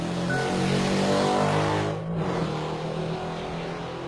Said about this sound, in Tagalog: Ang epic po ng tunog ng tricycle.